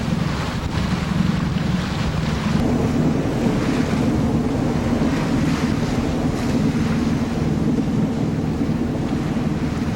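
A sailboat motoring along on dwindling wind as the fuel runs low, its engine a steady low drone blended with wind buffeting the microphone and water washing past the hull, continuous and fairly loud throughout.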